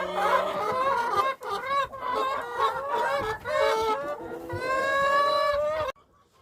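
Chickens cluck and call on a small farm, a dense, continuous flock chatter of overlapping squawks and clucks running loud and close before cutting off abruptly near the end.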